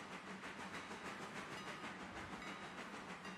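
A train rolls on rails in the railroad game Railroader, a dense, steady roar of wheel and track noise with a faint rhythmic rumble, quiet and continuous with no voices.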